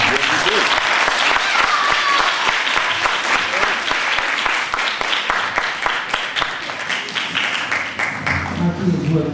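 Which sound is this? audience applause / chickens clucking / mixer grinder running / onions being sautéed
audience applause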